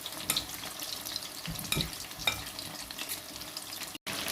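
Chicken wings cooking in a pan, a fairly quiet, even sizzle broken by a few sharper stirring knocks and clatters, close by and without talk.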